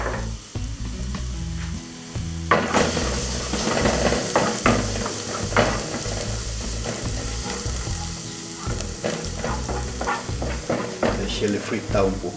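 A garlic clove fries in a hot pan with a loud, steady sizzle, while occasional utensil clinks and scrapes punctuate the hiss and a voice speaks briefly.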